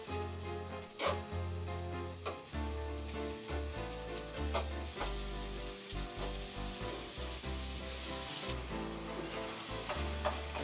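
Pork frying in a hot pan, a constant crackling hiss with occasional pops and some clinking of utensils.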